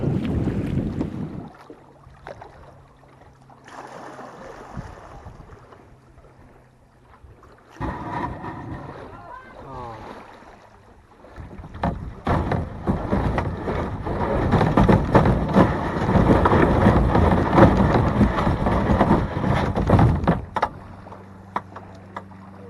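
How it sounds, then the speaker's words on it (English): Wind buffets the microphone while water sloshes and splashes around a kayak, growing louder and rougher midway as paddling through choppy waves picks up. "Definitely more waves and more choppy water and more difficult paddling heading back now"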